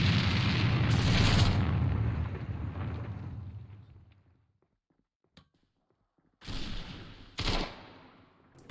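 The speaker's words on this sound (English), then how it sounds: "More shots coming in." Gunfire in the competitive shooter A.V.A during a tournament match: a loud sustained burst of rapid shots fades into near silence, then a second sharp volley of bursts returns before tailing off.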